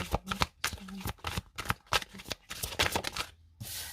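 Oracle cards shuffled by hand in a rapid series of crisp riffling bursts and short pauses, loud and close, with no one speaking.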